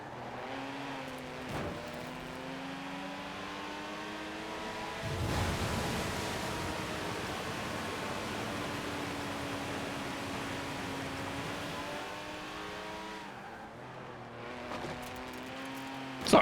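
A Porsche race car in Forza Horizon 4 drives through a summer night race, its engine droning steadily and rising and falling in pitch through gear changes, with a louder rush partway through.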